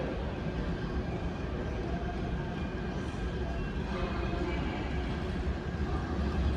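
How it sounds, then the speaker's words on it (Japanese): A limited express bound for Izukyu-Shimoda pulls into a platform at JR Shinjuku station, giving a steady, heavy rolling rumble with a broad rushing noise that holds fairly level throughout. "5番線特急お乗り換え1号伊豆急下田行き参ります。"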